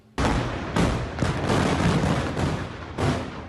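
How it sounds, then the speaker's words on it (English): A series of large explosions from an Israeli airstrike on the Lebanese capital, Beirut, sounding as several heavy booming blasts in quick succession, with loud rumbling sustained between them. "A series of explosions rocked Beirut Friday, the biggest to hit the Lebanese capital this year."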